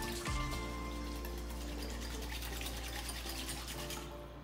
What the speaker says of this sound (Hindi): Let's just mix this up, अच्छे से मिलाएंगे ताकि गुड़ जो है वो अच्छे से मेल्ट हो जाए इसमें।